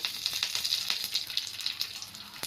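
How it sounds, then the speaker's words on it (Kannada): Mustard seeds, dry red chillies and curry leaves crackle in hot oil or ghee for a tempering, a steady bright sizzle with scattered pops, close and moderate in level, with no talk. "ಒಣಮೆಣಸಿನ್ಕಾಯಿ ಕರ್ಬೇವಿನ ಸೊಪ್ಪು ಸಾಸಿವೆ ಎಲ್ಲ ಹಾಕಿ ಒಗ್ಗರಣೆ ಹಾಕೋಣ"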